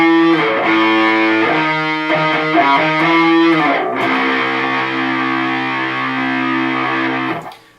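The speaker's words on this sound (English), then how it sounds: "So altogether, the second half of the chorus riff should sound like this." Heavily distorted electric guitar plays the second half of the chorus riff from a song, chugging chord changes for several seconds before one long sustained chord rings out and cuts off, loud and alone.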